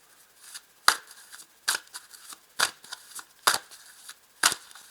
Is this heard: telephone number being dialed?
no